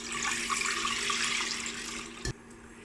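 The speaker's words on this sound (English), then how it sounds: "So I'm just gonna pour it into my pot." Homemade pumpkin seed milk poured from a container into a cooking pot, a steady close liquid splash and trickle that tapers off, ending with a brief knock.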